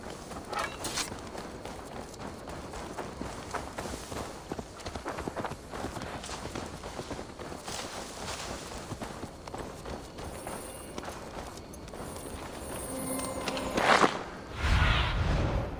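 Horse hooves clop on the ground in Assassin's Creed Valhalla, a steady rhythmic trot under game ambience and swooshing movement, fairly quiet throughout, with a louder burst of activity near the end.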